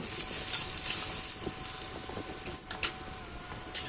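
Potatoes frying in oil in a covered pan, a soft continuous sizzle and hiss with a few small pops near the end.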